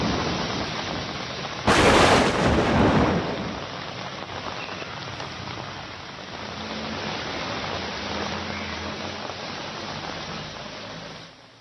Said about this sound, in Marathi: मुंबईकरांना मोठ्या पावसाची प्रतीक्षा होती आणि तो पाऊस आता मुंबईवरती बरसतोय